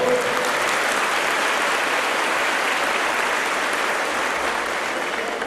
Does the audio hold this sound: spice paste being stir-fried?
no